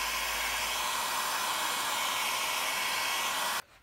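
A heat gun blows a steady, loud airy hiss while shrinking heat shrink tubing over soldered speaker wiring in a car door, running constantly for about three and a half seconds before switching off.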